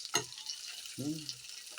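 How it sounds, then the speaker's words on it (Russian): Dumplings frying in a pan: a sharp sizzle burst as they hit hot oil, then a steady crackle with a brief low rumble partway through. "Ну вот такие пельмени жареные"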